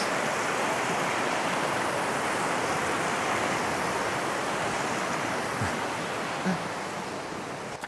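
The Mill Prong stream in Shenandoah flows in a steady, broad rushing wash that stays close and continuous throughout, with no voices.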